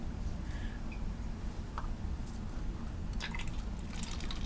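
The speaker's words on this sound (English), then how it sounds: "Trying to see where I'm pouring to" Water kefir being poured into a bottle, a soft continuous liquid trickle and fizzing with a few small drips, close and low-level throughout with no talking.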